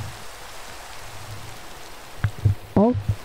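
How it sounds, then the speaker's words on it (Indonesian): Steady rain falling in the video game Minecraft, a soft continuous hiss, with a few short voiced sounds near the end. "Hujan nih."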